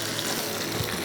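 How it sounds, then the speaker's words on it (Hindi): A little water being poured into a dish while cooking in a kitchen, a steady splashing, gushing stream heard close and continuous throughout, with no talk. "इसमें थोड़ा सा पानी ऐड करेंगे"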